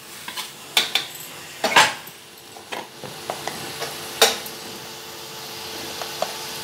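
Tomatoes with half a spoon each of chilli powder and ground coriander are stirred in a frying pan for a spinach moong dal, with a spoon scraping and clinking against the pan in irregular strokes over a soft, steady sizzle; no one speaks.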